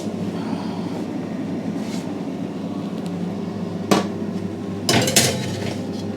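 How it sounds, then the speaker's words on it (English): Tray of roast potatoes slid back into a home oven, with a steady background whir broken by a sharp metallic clank and then a second, longer rattling knock near the end. "let's put these back in the oven"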